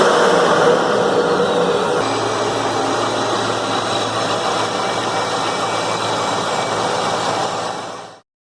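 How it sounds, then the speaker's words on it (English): Supercharged C5 Corvette V8 idling steadily after startup, a thin supercharger whine riding over the engine rumble, close and loud for about eight seconds before cutting off. "Kind of like the whine. A little bit of a telltale sign that something's a little bit different underneath the hood."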